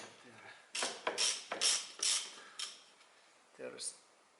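A 12 mm socket ratchet tightens bolts on the rear stabilizer bushing of a 1991–2002 Toyota Corolla, making several short bursts of clicking strokes with pauses between them, close and clear against a quiet background.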